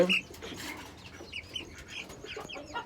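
Young chickens raised from chicks cluck and call softly close by, a busy scatter of short fowl sounds, with a voice faintly present.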